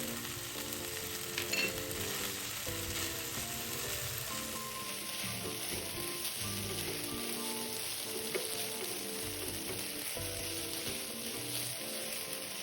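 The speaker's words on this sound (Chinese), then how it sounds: "继续炒匀后熄火" Minced pork sizzles and crackles in a wok as it is stir-fried with sesame oil and fresh red chili for a crystal cake filling, with steady frying hiss and intermittent scraping stir strokes throughout.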